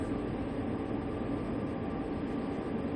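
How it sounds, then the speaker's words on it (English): Steady rumbling drone of a train held at 50 mph in a railway simulator game, a continuous broadband rush with low rolling wheel noise and no talk. "So I'm just going to keep the train at 50 miles an hour just to be safe."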